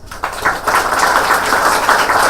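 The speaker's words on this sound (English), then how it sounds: "please join me in giving them both a rousing round of applause" An audience bursts into a rousing round of applause at a book launch in Kolkata, dense steady clapping that swells quickly and holds fairly loud throughout.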